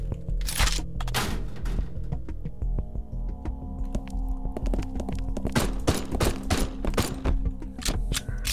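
Gunshots in the game Haydee: a string of sharp, close cracks fired at irregular intervals, with a few early shots and a denser run of blasts toward the end over a low ambient hum.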